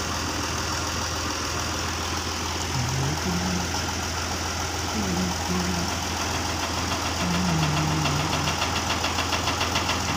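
A tractor engine runs at a steady idle with a low rumble and knocking throb while a trolley tips soil, continuous and close throughout, with no talking.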